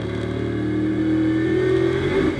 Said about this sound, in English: is there any wheel spin? Yeah. Plenty. So traction in these conditions with the BMW, with the Bentley, poor.